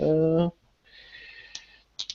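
A horse neighs in a role-playing video game, a loud descending whinny lasting about half a second, followed by quieter high-pitched clicks and tones.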